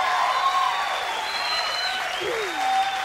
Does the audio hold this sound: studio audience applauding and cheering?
yes